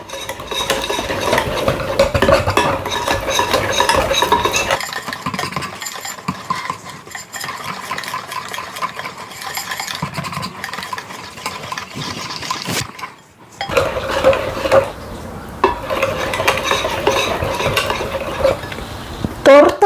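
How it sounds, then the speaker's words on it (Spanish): Homemade cake batter made with vegetable oil is stirred briskly in a bowl, a continuous scraping, sloshing whisk with utensil clinks against the side. It is loud and close, with a short pause partway through. "Y ahora sí, vamos a mezclar durante unos 3 o 4 minutos."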